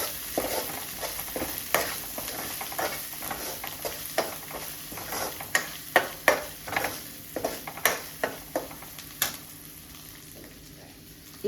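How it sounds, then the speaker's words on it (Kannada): Green chillies fry and are stirred in a pan for palak paneer: a soft, steady sizzle broken by repeated sharp scrapes and taps of the spoon against the pan, louder in the middle stretch. "ಇವಾಗ ಇದನ್ನ ಫುಲ್ ನೀಟಾಗಿ ಫ್ರೈ ಮಾಡ್ಕೊಳ್ಳೋಣ"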